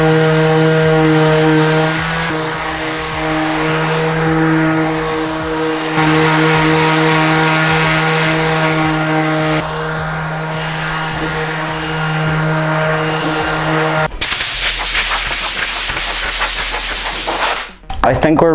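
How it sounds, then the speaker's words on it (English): A power sander works over a custom-built wooden desk before staining, a loud, steady whirring hum with shifting tone, then a harsher noisy burst near the end. "Now I just want to sand it a little bit and we'll be pretty much ready to stain"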